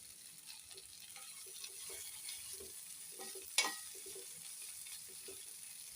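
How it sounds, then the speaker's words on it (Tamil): Pumpkin sizzles faintly and steadily as it fries in a pan while a utensil stirs and scrapes, with one brief sharp clink partway through. "இது ஒரு டூ மினிட்ஸ் அப்படியே வச்சோம்னா நல்ல நல்லா வதங்கி ஃப்ரை ஆகிடும்"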